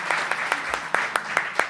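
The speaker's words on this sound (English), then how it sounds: "Let's give a round of applause to the nominees." A small audience at a 2016 awards ceremony claps for the film nominees, about eight distinct, fairly evenly spaced claps standing out over a soft background wash, moderately near and not very loud.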